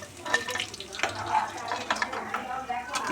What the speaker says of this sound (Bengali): এঁচোড়গুলো ভাজা ভাজা হয়ে গেছে তুলে নেব এইভাবে সবগুলো ভেজে নেব